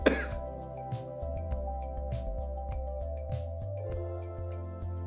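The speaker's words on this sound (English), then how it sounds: "Apologies, had to cough." A single brief cough bursts out at the very start, then gives way to a steady low tonal hum with faint scattered clicks.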